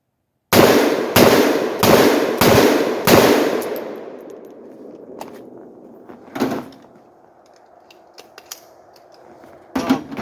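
A 7.62x39 AR-47 rifle fitted with a cone flash reduction device fires five sharp, loud shots in quick, even succession, each echoing outdoors, followed by a couple of fainter bangs later.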